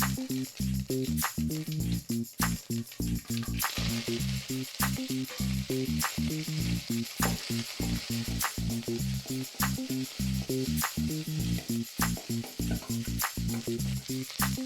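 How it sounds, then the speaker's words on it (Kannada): Mustard seeds, dried chili, garlic and curry leaves fry in hot oil for a tempering, giving a continuous close sizzle broken by rhythmic bursts of crackling and popping. "ಕರಿಬೇವು ಹಾಕಿ ಫ್ರೈ ಮಾಡ್ಕೊಳ್ಳೋಣ."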